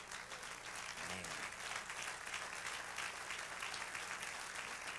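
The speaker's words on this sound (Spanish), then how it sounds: "Denle un aplauso al Señor." Steady, dense applause from a large church congregation fills the whole stretch, a continuous patter of many hands clapping together without a break.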